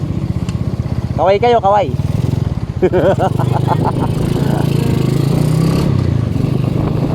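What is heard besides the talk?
Raider 150 motorcycle engine with new Podium pipe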